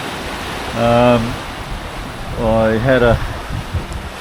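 Steady, rushing wind blows across a sailboat riding at anchor in Baie Hanamoanoa, Tahuata, a constant broadband roar beneath a voice talking nearby.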